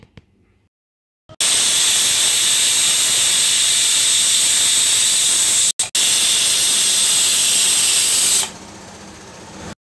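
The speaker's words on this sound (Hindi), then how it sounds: "इसे हम तेज़ आंच पर दो सीटी आने तक पका लेंगे" A loud, steady hiss of steam blasts from a pressure cooker whistle on high heat while cooking moong dal, cutting out briefly once, then fading to quiet near the end.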